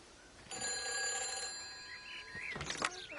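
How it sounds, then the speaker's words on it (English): A telephone rings in a quiet outdoor spot near fields and flowers, a bright electronic ring lasting about two seconds, then a short burst of further ringing, fairly close and clear with no talk over it. "Oh, no, it's a phone."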